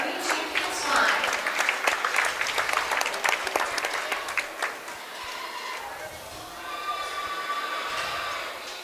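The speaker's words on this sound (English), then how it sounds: "One more round of applause for all of our green champions flying." Stock show crowd applauding livestock champions, a burst of many hands clapping in a large arena that tapers off into a softer patter, with a voice talking over the end.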